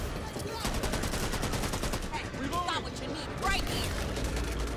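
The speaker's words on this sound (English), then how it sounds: "someone's shooting me" Gunfire in the video game Back 4 Blood: dense, continuous bursts of shots heard close, packed together throughout over game noise, with no clear talking.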